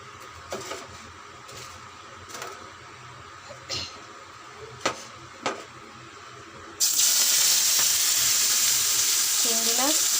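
Dried chillies go into hot oil in a pan while cooking shrimp bhorta. A few light clinks and stirs come first, then a sudden loud, steady sizzle that continues to the end.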